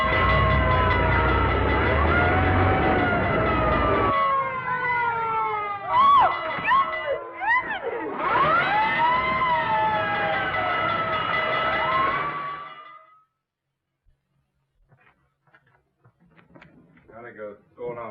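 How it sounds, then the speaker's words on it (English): A 1930s fire engine siren wails loudly in long rising and falling sweeps, with a bell and engine noise mixed in, before cutting out to quiet with faint voices at the end. "looks as if I finally get my ride on a fire engine"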